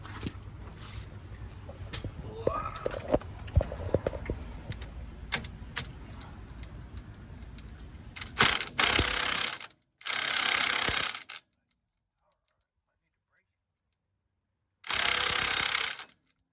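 A ratchet with a 15/16 socket unbolting the bottom of a strut on a Jeep Grand Cherokee during an upper control arm job, with clicking and handling sounds followed by several loud, sustained powered bursts separated by silence.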